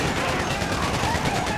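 Dense, continuous gunfire from the GTA V video game, a loud sustained fusillade of overlapping shots with no pauses.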